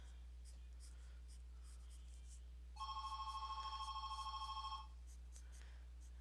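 A telephone rings with an incoming call, a steady electronic trill lasting about two seconds against a quiet room with faint background noise.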